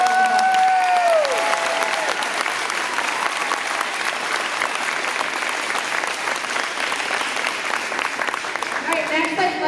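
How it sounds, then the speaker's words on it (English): An audience at a Gloucester Township school board meeting applauds: dense, steady clapping from a roomful of people lasts throughout, with a brief high tone at the start. "Please give them a round of applause."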